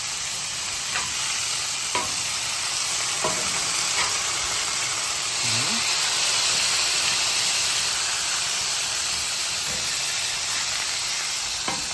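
Smash burger patties sizzling loudly on a hot griddle, a constant bright hiss broken by a few quick scraping clicks of a spatula as the patties are flipped.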